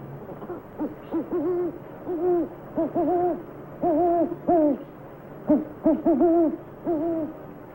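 A man imitates an owl hoot as a signal, repeating two-note hoots in short rhythmic bursts, close and clear, with brief pauses between groups.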